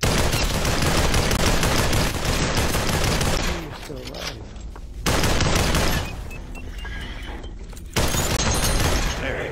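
Dense automatic gunfire from the VR shooter Population: One, loud and sustained with brief pauses, bursts restarting around five and eight seconds, while players talk over it.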